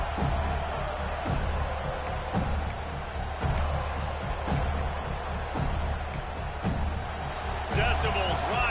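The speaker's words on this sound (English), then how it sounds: "Decibels rising as the crowd gets behind this defense on 3rd down" In a college football video game matchup of FSU vs Oklahoma, the stadium crowd gives off a steady, dense roar that swells on third down, with game commentary over it.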